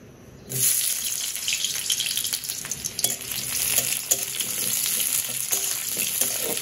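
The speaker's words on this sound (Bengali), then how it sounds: "আজকে ভাবলাম যে পেঁয়াজটা আগে দিয়ে ভাজি করব।" Onions hit a hot pan and fry with a loud, continuous hiss that starts abruptly after a short silence, with stirring scrapes and crackles running through it.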